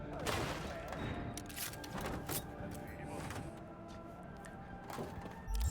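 Rapid bursts of gunfire from an Auto 9 pistol loaded with explosive rounds in Cyberpunk 2077, repeated sharp blasts and thumps over game ambience with some speech.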